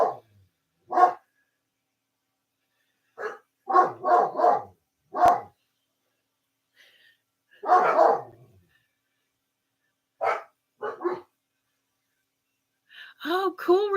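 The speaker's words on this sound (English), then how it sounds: "Can you guys hear my dogs barking?" Several dogs bark in short bursts with gaps of silence between, fairly close, ending with a run of higher yips.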